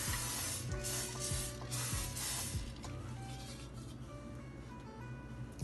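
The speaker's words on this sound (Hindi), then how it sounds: "इस पर स्प्रे करेंगे।" Oil sprayed from a spray bottle onto baking paper laid over an oiled baking tray, a run of short hissing bursts, with repeated soft pumping clicks, close and fairly loud.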